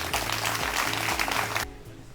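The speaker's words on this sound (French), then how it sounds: "ils vont s'applaudir très très fort" A seated audience at a French startup pitch event applauds steadily for about a second and a half, a dense patter of clapping that cuts off abruptly into quiet.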